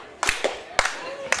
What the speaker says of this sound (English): Crowd beginning to clap here